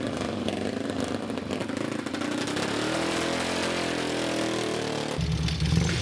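A twin-cylinder racing motorcycle starts up at a street race in Methven, New Zealand, its engine catching and settling into a loud, steady running note close by, deepening toward the end.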